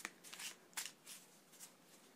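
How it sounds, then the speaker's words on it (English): A pack of playing cards shuffled by hand, a series of soft, quick papery flutters and riffles close by, quiet and uneven in rhythm, with no talking. "then shuffle it into the pack so that nobody knows where it is"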